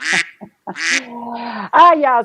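Ducks quack loudly and close up, several nasal calls in a quick irregular run, alone without other sound around them.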